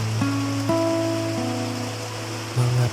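Steady hiss of rain drops falling on a window during the rainy season, continuous and soft beneath sustained musical tones.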